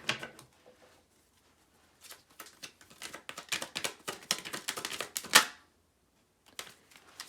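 Tarot cards are shuffled in quick, crisp flurries of papery clicks, separated by quiet gaps.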